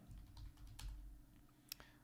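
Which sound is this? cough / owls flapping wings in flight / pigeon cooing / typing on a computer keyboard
typing on a computer keyboard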